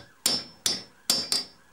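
Two hammers strike a steel washer clamped in a vise, giving four sharp metallic clanks with ringing tails at an uneven pace, close and clear.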